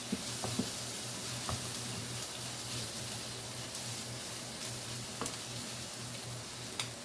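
Fresh corn fries in a skillet with a steady, close sizzle and crackle, with a few sharper pops and stirring scrapes now and then, and no voices.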